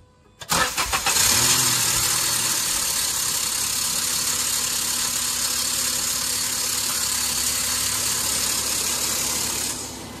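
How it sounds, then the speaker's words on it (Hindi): Maruti WagonR car with a replaced engine starting up, a sharp cranking burst followed by a loud, steady idle that runs on alone before cutting off near the end. "जैसा कि आपने देखा इंजन स्टार्ट"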